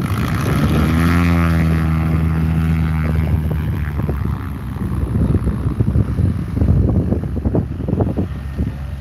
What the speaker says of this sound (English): Watch the reverse on this prop.